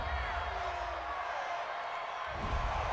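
A stadium crowd at a New Orleans Saints versus Seattle Seahawks football game reacts to a penalty call, a loud sustained roar of many voices that swells again near the end.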